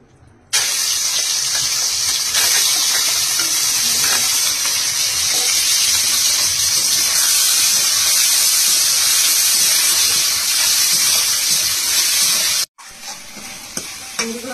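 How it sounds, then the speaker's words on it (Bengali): Salted, turmeric-coated prawns frying in hot oil in a kadai, a loud steady sizzle lasting several seconds before cutting off sharply into a quieter tail. "লবণ হলুদ মাখা নিয়ে চিংড়ি মাছটা ভেজে নেব"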